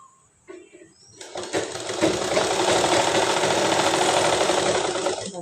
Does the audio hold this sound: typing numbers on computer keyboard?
no